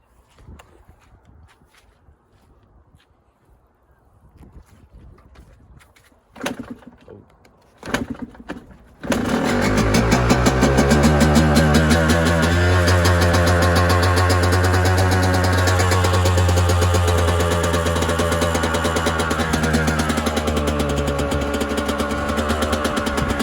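A cold Yamaha YZ125 dirt bike, choke on, takes a few kicks with sputtering attempts, then fires up and settles into a loud, steady two-stroke idle close by; faint talk before it starts.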